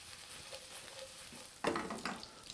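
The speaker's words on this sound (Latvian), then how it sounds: "Un arī liekam uz pannas apcepties." Sliced vegetables for chicken fajitas frying in a pan, a soft steady sizzle that suddenly grows louder and crackly partway through as the pieces are stirred, with no talking.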